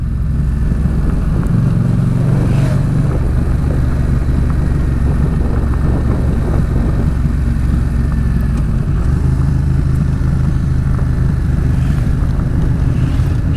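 An off-road motorcycle riding a dirt track in Portugal, its engine droning steadily and loudly close by with wind rumble and rough-ground rattle throughout.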